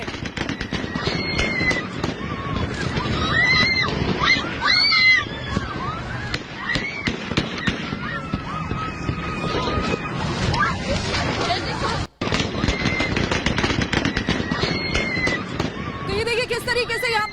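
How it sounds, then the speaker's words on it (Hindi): Gunfire by Taliban fighters at a women's protest in Herat, a dense crackle of rapid popping shots mixed with crowd noise and shouting voices, continuous and loud throughout. "देखिए किस तरीके से फायरिंग कर दी तालिबानियों ने"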